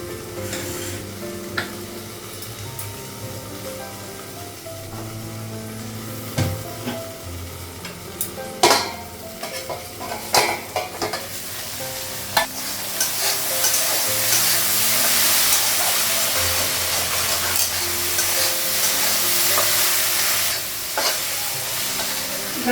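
Sliced ridge gourd and potato fry in oil in a wok for a home-cooked Bengali poppy-seed dish: a continuous sizzle with stirring scrapes and clinks, growing louder and hissier in the second half, with no voices.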